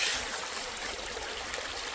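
Water streams steadily through a full-size Gold Hog Stream sluice box set close to the work area, a constant near, fairly loud rushing wash with no voices.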